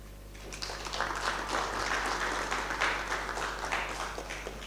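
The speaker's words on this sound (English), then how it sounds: "Ladies and gentlemen, I would like you to applaud" Audience applause in a lecture hall during a spring lecture session, a steady wash of many hands clapping at moderate distance, fairly even throughout with a low electrical hum beneath.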